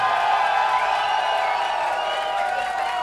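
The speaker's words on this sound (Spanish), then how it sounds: "Y fuertes los aplausos para Juan Camilo" Studio audience of a televised talent competition cheers and applauds steadily, a dense continuous crowd roar with shouts and whoops held at an even level throughout.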